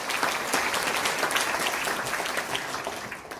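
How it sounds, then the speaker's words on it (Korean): A crowd at a regional council policy debate forum claps warmly, dense sustained applause that tapers slightly toward the end. "이해찬 대표님께 뜨거운 박수를 부탁드립니다"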